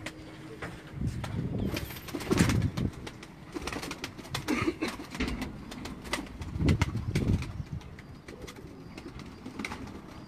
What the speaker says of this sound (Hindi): ये दोस्तों उनके सफ़ेद कबूतर थे